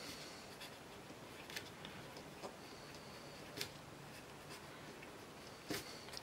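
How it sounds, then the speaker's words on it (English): Pen scratching across paper as notes are written by hand, a faint steady scribble with small taps and ticks over a quiet background hiss. "Okay, so I'll just write it down for you."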